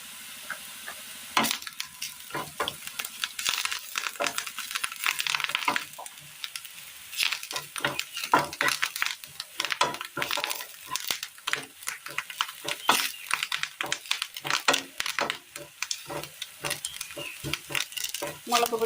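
Curry leaves and chili powder fry with softened shallots in a pan for a Kerala curry, a close, steady sizzle broken by frequent sharp scrapes and clinks of a spoon stirring, with no talking.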